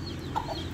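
Aseel chickens cluck once or twice in a brief, soft burst close by, over a low background hum.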